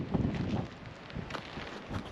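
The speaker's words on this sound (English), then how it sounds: "And it is windy" Gusty wind blows across an open desert camp near the Colorado River, a rough, rumbling buffeting on the microphone that rises and falls, with no talk.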